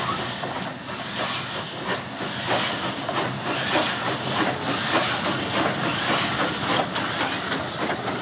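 Steam locomotive on a Central Java sugar cane railway running to the Gondang Baru factory, giving off a loud, continuous hiss of steam with a faint rhythmic chuffing beneath it and no talking.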